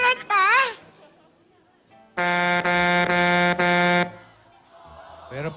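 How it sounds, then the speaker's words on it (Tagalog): Loud, sustained horn blast with a buzzing tone, lasting about two seconds and briefly interrupted, on a Philippine noontime variety show set, with talk and a sliding vocal sound before it. "There's a horn."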